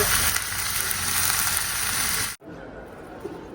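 Eggplant and tomato fry in a pan with a loud, dense, continuous sizzle that drops sharply in loudness partway through and carries on more softly, with no clear speech.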